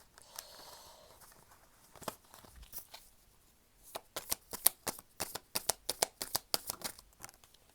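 Tarot-style message cards shuffled by hand, soft rustles at first, then a rapid run of crisp riffling flicks and snaps, close and fairly quiet with no talking.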